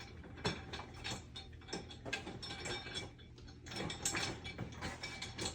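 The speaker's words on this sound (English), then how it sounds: "I'm just going to move these around, and you guys can be the judge of if this is too loud" Casters of a Herman Miller Embody gaming chair rolling back and forth on the floor, giving a quiet, uneven clattering and grinding with bursts as the chair is pushed and pulled, no talking.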